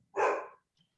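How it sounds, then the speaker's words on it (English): A single loud bark from a young, growing dog indoors, one sharp burst about half a second long, followed by near silence with only faint room noise. "that's my dog"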